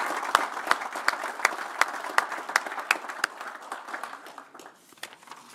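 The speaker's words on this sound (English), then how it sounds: "I want to give another big round of applause for labor." Applause from attendees at a board meeting, a steady round of clapping at moderate distance that thins and fades toward the end.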